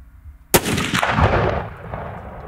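A single sharp, loud report from a .300-calibre hunting rifle cracks out on a Texas ranch and then rolls away as a long echoing boom that fades over a couple of seconds.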